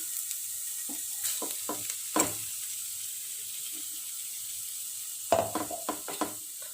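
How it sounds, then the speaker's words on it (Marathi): Tomato puree with softened tomatoes being stirred in a pan for pizza sauce: a low hiss with a few scattered spatula scrapes early on, then a brief cluster of taps near the end, close and otherwise quiet. "व्यवस्थित मिक्स करून घ्यायचं आणि 2 मिनिटं पुन्हा झाकण ठेवायचं."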